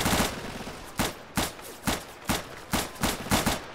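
Gunfire in Arma 3 during a gang shootout: eight or so sharp rifle shots spaced about half a second apart in a steady rhythm, loud and close, with no talking.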